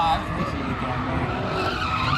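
Drift car tires skidding at a Mopar drift event, a steady, loud screeching roar with engine noise and crowd din sustained throughout.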